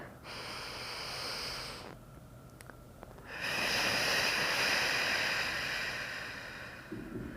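Heavy breathing during an exercise hold in a fitness class: long, loud hissing inhales and exhales close to the microphone, broken by a short quieter pause.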